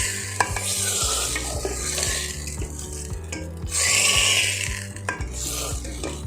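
A spoon scrapes and stirs a mustard paste mixed vegetable curry, Puri temple style besara, in a pan, with repeated scraping strokes over a soft sizzle and a steady low hum in the background.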